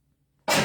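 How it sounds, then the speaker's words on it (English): One sudden, explosive human sneeze bursts out of near silence, loud and close, cut off almost as soon as it starts. "I'm going to sneeze here."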